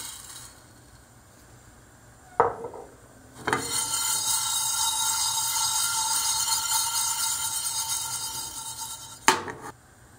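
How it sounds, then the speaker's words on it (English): Cumin and coriander seeds toasting in a hot pan, a broad steady hiss and crackle that starts after a couple of sharp knocks and ends with another clank of the pan. "toast cumin and coriander seeds in a hot pan"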